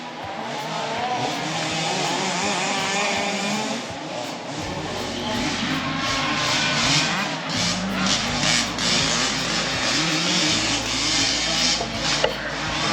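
Several 1/5 scale RC cars race at an RC club track near Perth, Western Australia, their small engines whining and revving continuously, rising and falling as they pass at mid distance, with steady outdoor background.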